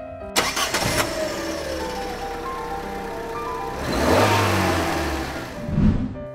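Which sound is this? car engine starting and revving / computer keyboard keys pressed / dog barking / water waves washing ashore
car engine starting and revving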